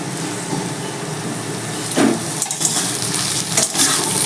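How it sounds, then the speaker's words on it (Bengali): Cut potato and radish sizzle loudly as they hit a pan of frying onion and garlic, a constant hiss broken by sharper crackles and a few clacks of a stirring utensil, no talking. "পেঁয়াজ আর রসুনটা ভাজা হয়ে গেছে এবার আমি কেটে রাখা আলু আর মুলোটা ছেড়ে দিচ্ছি"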